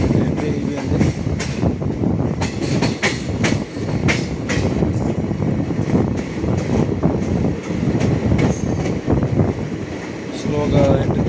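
A passenger train moves slowly into Ballugaon railway station on the Berhampur to Khurda Road route, with loud rolling rumble and wheel clatter close by and a voice talking faintly over it.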